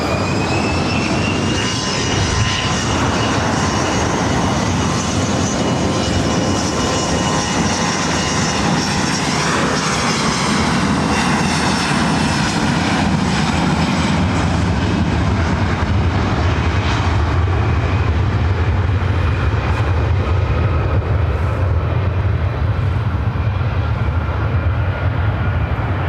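At LAX, a jet taking off for Aspen gives a loud, sustained engine roar and whine that builds, peaks and slowly rumbles away over about twenty-six seconds, heard alone without talk.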